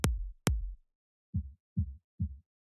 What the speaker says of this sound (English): it sounds like a softer kick in the background